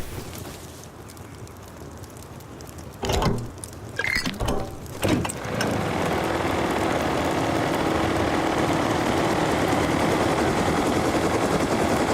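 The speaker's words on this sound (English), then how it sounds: "I can make a mini copter go" A minicopter engine in the game Rust runs steadily, starting with a few sharp clattering bursts before settling into a loud, continuous whirring drone that holds to the end.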